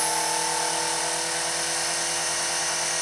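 A radio-controlled helicopter's electric rotor system on its maiden flight, throttle at 85 percent, gives a loud, steady, close high-pitched whine with a buzzing tonal hum that holds constant throughout.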